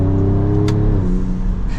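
A 2024 Ford Ranger Raptor's V6 engine exhaust drones loudly with a deep, steady tone that shifts pitch slightly midway, heard up close.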